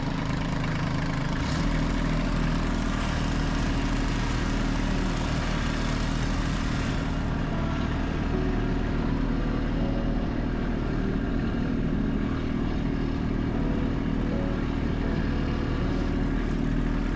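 A Kubota B2650 compact tractor's diesel engine idles in a steady, continuous rumble while firewood is loaded, with a constant low drone and no pauses for the whole stretch.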